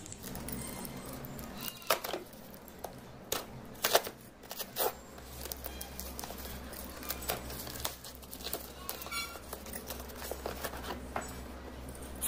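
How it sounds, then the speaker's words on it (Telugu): Handling and opening a sealed Vivo T2 5G smartphone box, with scattered crinkles, taps and rustles of cardboard and plastic, close and fairly quiet over a low steady hum, no talking. "ఫస్ట్ బాక్స్ సీల్ అయితే ఓపెన్ చేద్దాం"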